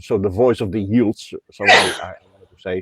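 A single short, sharp sneeze bursts out between stretches of a person's ongoing speech, close and clear.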